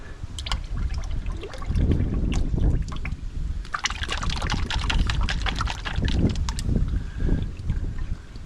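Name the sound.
pouring liquid engine treatment into Kawasaki Ultra 260 motor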